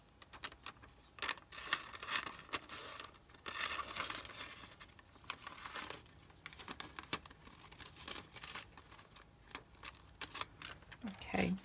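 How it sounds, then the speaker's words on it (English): Card stock is cut with scissors to make a paper notebook tag, giving soft crinkling and snipping sounds in irregular bursts, close and quiet. "I'm going to cut it out the same size as the card initially"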